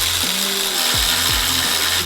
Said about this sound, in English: we're gonna go ahead and tighten the AC condenser